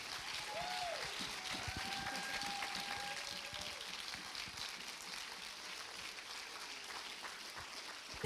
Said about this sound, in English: Let's give her a big hand clap, Sister Tiffany.